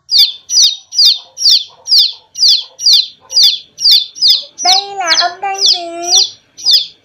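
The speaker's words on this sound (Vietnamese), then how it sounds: "Tiếng gà con" Repeated loud, high peeps from a chick in a steady rhythm, about two per second, with a person's spoken question cutting in partway through.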